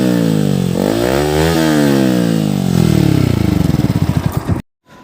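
A motorcycle fitted with an Akrapovic aftermarket exhaust revs loudly and close up, its pitch swooping up and down through several throttle blips before a rapid pulsing burble that cuts off abruptly near the end.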